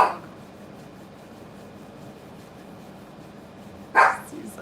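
A dog barks once, sharp and fairly close, near the end after a stretch of quiet room noise, with a brief yip or whimper at the very start.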